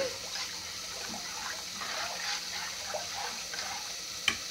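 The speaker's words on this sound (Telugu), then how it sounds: "చింతపండు నీళ్లు పోసేసుకొని" Tamarind water is poured into cooked mashed dal for sambar, a continuous soft liquid splash and trickle close by, steady throughout with a small knock near the end.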